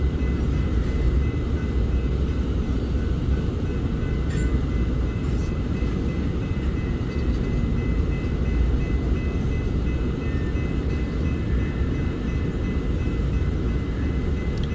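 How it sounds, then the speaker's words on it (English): A southbound loaded coal freight train passing at a rail junction, a steady low rumble and rolling drone that holds evenly throughout at moderate loudness, with faint metallic squeals above it. "this is a southbound loaded coal drag"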